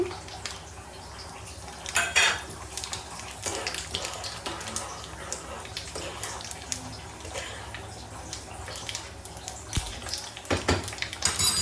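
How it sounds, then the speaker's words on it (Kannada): Chana dal, urad dal and cumin fry in a pan for a tempering, giving a steady broadband sizzle with occasional clinks and scrapes of a utensil against the pan, close and fairly loud without talking. "ನೋಡಿ ಈ ಥರ ನೀಟಾಗಿ ಫ್ರೈ ಮಾಡ್ಕೊಳ್ಳಿ ಕಡಲೆಬೇಳೆ ಮತ್ತು ಉದ್ದಿನ ಬೇಳೆನ"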